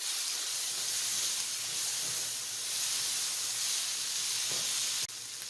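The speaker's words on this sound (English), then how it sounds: "I'm just going to saute them a little bit for 1 to 2 more minutes before I add in our tomatoes" Onions and smoked fish sauté in a pan for a vegetable stew with shrimp, a steady loud hiss and sizzle running throughout with a few faint clicks and a sharp change near the end.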